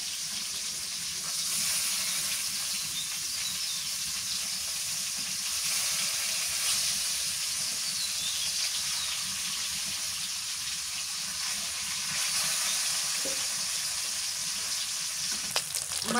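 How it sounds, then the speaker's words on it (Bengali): Kalibaus fish fries in oil on a clay stove, a steady close sizzle and crackle running throughout with a brief scrape near the end as the fish is turned. "মাছটা উল্টাইয়া দিই।"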